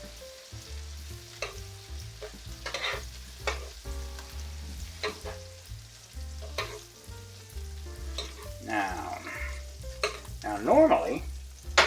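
Shrimp stirred and fried in a pan for a spicy shrimp dish, giving a steady sizzle with repeated scraping and stirring strokes at close range and a louder burst of frying near the end, under a brief spoken remark.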